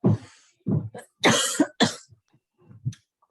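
A few sharp, close coughs in quick succession, with short pauses between bursts and no talking.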